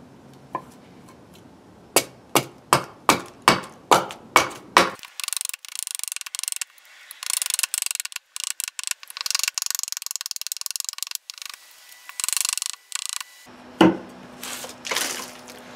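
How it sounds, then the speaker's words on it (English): Axe strikes chop into a naturally curved crook of wood being shaped for a carved bowl: a run of about ten sharp, evenly paced knocks, then scraping and rustling work close by. "I'm just going to start axing this down to make our first start"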